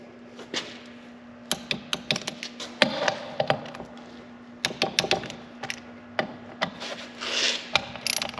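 A torque wrench ratchets as 12mm bolts are tightened to 20 foot-pounds on a locker install for a 2021+ Kawasaki Mule Pro: bursts of sharp, close clicks and clacks in irregular runs, with a faint steady hum underneath.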